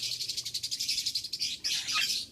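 Rapid, evenly pulsed high chirps from a pet bird fill the short stretch indoors, a steady trill that breaks briefly and then resumes just as busily, close and fairly soft.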